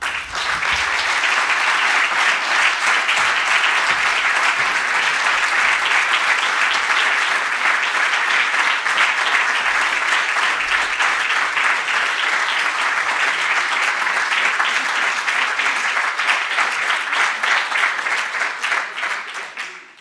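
Sustained audience applause at the DLC meets EU kickoff conference, a dense, steady wash of many hands clapping for about twenty seconds before tapering off at the end.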